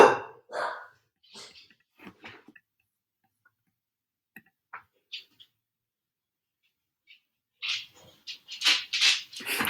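Several dogs bark loudly and close by in a home, in two noisy bursts at the start and end of the stretch, with quiet gaps and faint knocks between.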